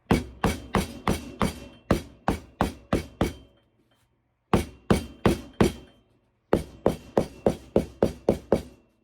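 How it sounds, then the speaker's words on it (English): Steady hammer blows on nails while building an ironing board, sharp regular strikes in three bursts separated by short pauses, close and clear. "I just need to hammer it a little bit."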